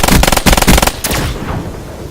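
Rapid pistol fire in a first-person shooter video game, a quick burst of four loud sharp shots in fast rhythm followed by a decaying echo and fading game noise.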